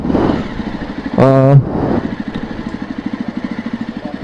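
A Jawa Perak motorcycle engine idles with a steady, rapid putter, briefly broken by a short tonal rev or whine before the chugging resumes.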